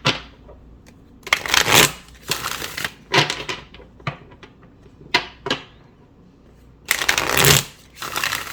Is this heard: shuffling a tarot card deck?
yes